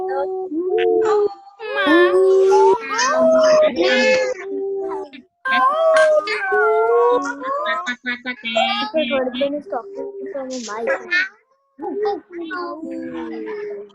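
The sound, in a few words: children imitating animal noises, howling like dogs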